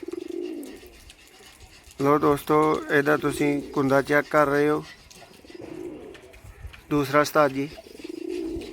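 Sialkoti high flyer pigeons give soft, low, close coos at the start, middle and end, while someone talks loudly in between.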